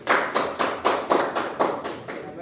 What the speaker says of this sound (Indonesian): Kasih aplaus pada Aliansa Siregar.